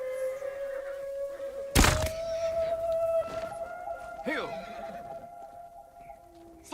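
Horses whinny and neigh in a Ghost of Tsushima battle near a bear, with a loud thud and hoof clatter midway, then sustained pitched neighing that fades.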